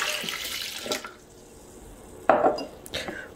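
Water poured from a tap or jug into a kitchen blender while making a digestive juice drink, a splashing stream in two short bursts with quiet gaps, close by and alone.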